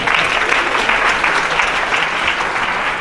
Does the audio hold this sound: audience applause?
yes